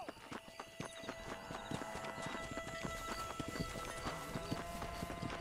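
A horse in the video game Red Dead Redemption walks with a steady run of hoof clip-clops over a dense bed of in-game ambience, heard close and moderately loud.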